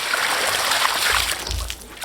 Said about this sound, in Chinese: 先洗一盘菜。